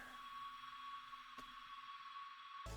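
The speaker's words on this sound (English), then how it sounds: "All that's left is like this little ambient sound," A soft ambient synth pad from an emotional electronic song, a quiet steady drone with a faint shimmer and a brief tick near the middle, alone and low in level.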